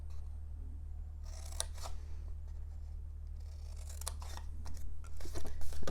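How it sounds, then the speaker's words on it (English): Scissors snipping a square off a paper box, a few soft crisp cuts and crinkles at close range over a low steady hum. "Cut this square off."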